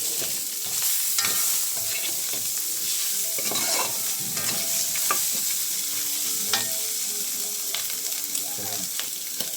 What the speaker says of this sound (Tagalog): Kailangan masangkot kaya maigil yung sibuyas saka yung bawang.